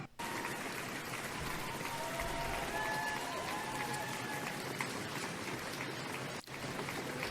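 A small crowd applauds Keir Starmer with steady, dense clapping throughout, fairly distant with no voices standing out.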